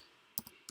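Numbers typed on a computer keyboard: three quiet separate key clicks in quick succession against near silence.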